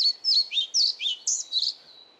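Pied flycatcher song in a temperate rainforest: a run of bright, quick high-pitched chirping phrases repeated about seven times over two seconds, clear and fairly close against quiet background.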